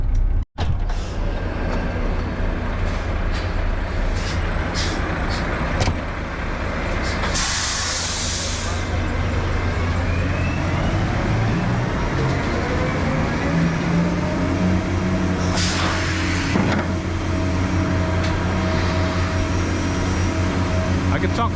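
A cement truck's tank blows air while unloading, a loud continuous rushing hiss with mechanical rumble running throughout, punctuated by brief sharper bursts of released air.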